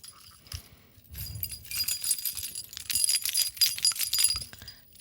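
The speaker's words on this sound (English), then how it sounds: "I have the most obnoxious keys of all time." Loud metallic jangling and clinking of a key bunch on a small Miffy blind-box keychain, shaken in bursts that grow busier and denser toward the end, close by with no talking.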